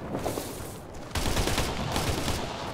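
Suppressing fire in the combat game Operation Flashpoint: Red River, a loud dense fusillade of rapid gunshots that briefly eases off and then surges back harder and continuous.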